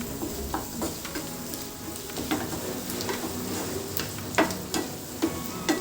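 Egg masala (guddu karam) frying and being stirred in a pan, with continuous close sizzling overlaid by light scraping and tapping of a spoon against the pan that grows more frequent toward the end.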